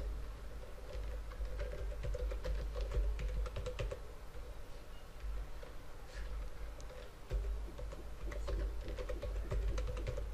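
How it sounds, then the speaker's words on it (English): Steady typing on a computer keyboard while entering a code comment, a continuous soft patter of key clicks over a low background hum, with no talking. "I'm going to type a comment here."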